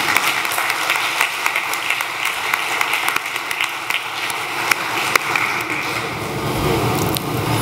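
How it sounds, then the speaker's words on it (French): Applause from the audience at the opening of the 15th Dakar Biennale of contemporary African art, a dense, steady clatter of many hands that carries on for the whole stretch with no voices over it. "je pense qu'on peut l'applaudir."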